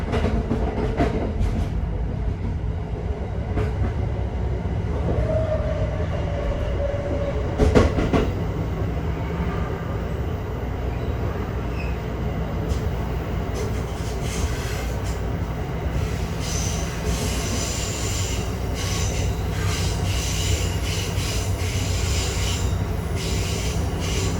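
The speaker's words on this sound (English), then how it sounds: "That's a long westbound intermodal." A long westbound intermodal freight train passes between Altoona and Cresson, Pennsylvania, heard from aboard a moving Amtrak passenger train: a sustained heavy rumble with rail clatter, a sharp louder burst partway through, and brighter wheel noise later.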